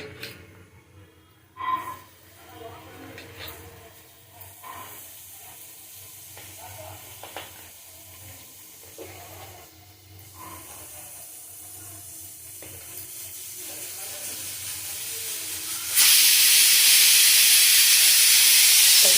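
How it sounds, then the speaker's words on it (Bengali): Vegetables fry in ghee in a kadai for daliya khichdi, a soft sizzle and scattered clinks building gradually, then a loud, bright hiss surging as more go into the pan near the end. "আমি এক এক করে আমি সবজিগুলো ভেজে নেব"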